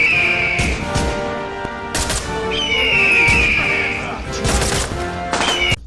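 Weapons firing in the Ready or Not tactical shooter, sharp loud shots and short bursts spread through the stretch, mixed with game music or ambient tones.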